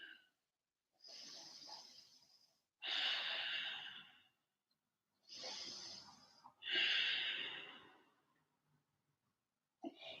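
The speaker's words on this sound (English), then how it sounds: "Big belly breaths." Slow, deep belly breaths during a yoga flow in child's pose, two full inhale-exhale cycles heard close and quiet, each breath a long airy rush followed by a pause of silence.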